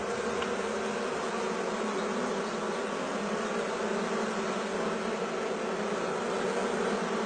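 Armenian yellow bees buzz in a dense, continuous drone, steady and fairly close, with no voices over it.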